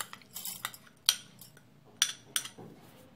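Dry rice grains poured into a glass in a kitchen, scattered ticking and clinking in a few small bursts with sharp rattling hits against the glass.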